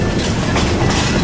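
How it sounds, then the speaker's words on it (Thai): A train on the Ban Laem to Mae Klong line runs through a mangrove forest, producing a steady, loud broadband rumble with rattling wheels throughout a short stretch. "อยู่บนรถไฟสายบ้านแหลมไปแม่กลองนะครับ"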